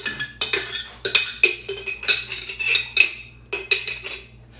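A big metal spoon scooping food from one container into another, giving repeated clinks and scrapes against the dishes at a steady, close, fairly loud rhythm.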